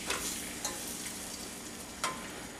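Brown sugar being stirred into melted butter in a sauce pot, a soft steady scraping with faint sizzle and a couple of brief sharper clinks of the spoon against the pot.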